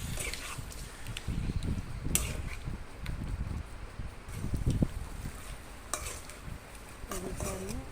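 Chicken frying in mustard oil in a wok sizzles steadily while being stirred, with scraping and clattering knocks against the pan close by.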